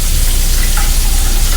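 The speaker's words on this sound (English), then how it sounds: "Keep the conditioner boiling inside of the pot." Conditioner boiling hot in a pot for dyeing a lace front wig, a steady close bubbling, sizzling hiss that runs unbroken throughout with no voices.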